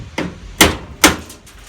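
Hammer-like tool tapping through a part of a Beko tumble dryer during scrapping: three sharp knocks, close and distinct, with a couple of fainter taps after.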